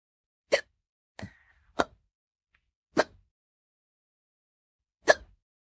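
Five sharp, abrupt hiccups from a person after drinking beer, spaced irregularly over a few seconds, close and fairly loud with silence between them.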